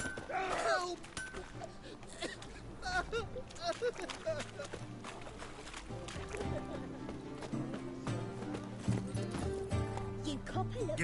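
Horse hooves clip-clopping at a trot in The Witcher 3, a steady rhythmic beat under game music, with a brief whinny near the start.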